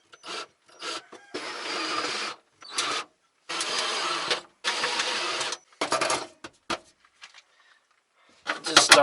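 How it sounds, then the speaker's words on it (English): A power drill whirs in a series of short bursts while replacing a car's fuel pump, stopping and starting repeatedly with brief silent gaps between runs. "Just start it with the drill"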